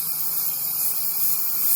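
Orange-yellow paint mists onto a painting of a male cardinal's feathers as a steady, even spray hiss that lasts the whole short moment, with no talking.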